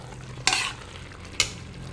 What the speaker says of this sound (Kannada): ಹಾಕ್ಕೊಂಡು ಚೆನ್ನಾಗಿ ಮಿಕ್ಸ್ ಮಾಡಿ.